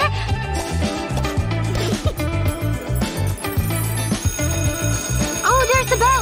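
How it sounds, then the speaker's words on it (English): A school bell rings at the end of gym class, its bright electric ring rising near the close, over steady loud background music. "Oh, there's the bell! Gym is over!"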